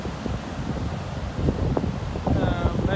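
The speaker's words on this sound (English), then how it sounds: "Sorry about the wind." Strong southeasterly wind buffets the microphone on the coast beside big surf, a continuous rough roar with gusty swells and low rumble, close and loud throughout.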